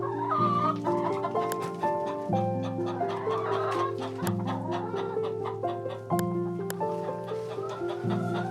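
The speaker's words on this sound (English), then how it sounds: "Inside, she found 4 hens and a rooster." Four hens and a rooster cluck in a chicken coop in a video game, with repeated short clucks set over steady, looping musical tones.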